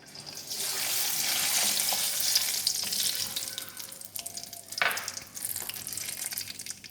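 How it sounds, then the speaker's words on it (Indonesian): Peanuts frying in hot oil over medium heat, a steady bubbling hiss that holds for several seconds, then dips and swells again with a brief clatter of stirring near the end. "kemudian kita menggoreng kacang"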